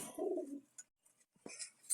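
Pigeons and their two chicks kept outside in the sun, a soft low coo followed by faint chirpy peeps and rustles, quiet and close with pauses between sounds.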